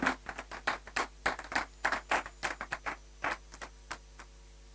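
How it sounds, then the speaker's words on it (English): An audience claps for a speaker being introduced at a civil service week policy dialogue, a scattered round of applause with individual hand claps that thins out and fades toward the end. "Please, a round of applause for him."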